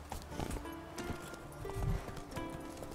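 Roach, Geralt's horse in The Witcher 3: Wild Hunt, trotting up with clip-clop hoofbeats and a snort, over game ambience; fairly close and moderate in level.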